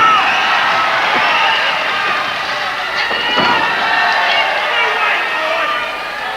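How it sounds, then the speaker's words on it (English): Wrestling crowd at a televised World of Sport bout, a steady roar of cheering and shouting throughout, loud and dense, with a commentator talking over it. "That's got the crowd really going."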